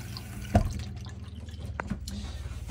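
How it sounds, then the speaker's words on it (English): Water runs steadily from a bathroom tap in a Rimor Katamarano motorhome, a continuous close hiss and splash with a brief louder knock near the start. "You've got the same tap just here, pretty much as you have in the kitchen."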